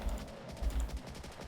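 Rapid SMG gunfire in the Infected Zone video game, bursts of low thudding shots repeating close and steady through a short firefight.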